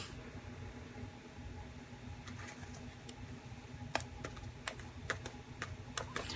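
Typing on a computer keyboard indoors: quiet background hiss at first, then a loose run of sharp, distinct key clicks in the second half, faint and close by, with no talking.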